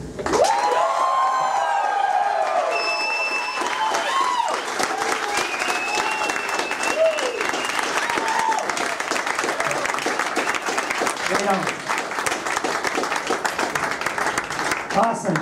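An audience at a Groundwerk event gives a loud, sustained round of applause with cheering and whoops as a tribute, a dense wash of clapping that fills the whole stretch.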